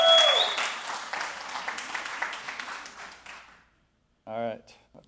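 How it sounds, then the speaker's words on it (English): A church congregation gives a round of applause during a Mother's Day service, dense clapping that fades out after about three seconds, followed by silence and a brief spoken voice near the end. "Round of applause."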